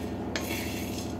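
Sabudana (tapioca pearls) being dry-roasted and stirred in a pan, heard as a steady close scraping and light clinking of a utensil against the pan, with a brighter scrape partway through.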